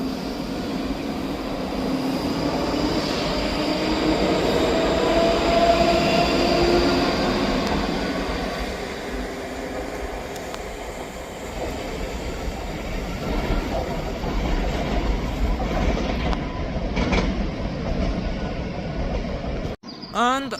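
A Scotrail passenger train rumbles through Edinburgh Haymarket station, a sustained loud rolling roar with metallic rail squeals and hum, swelling and easing over about twenty seconds, then cutting off abruptly.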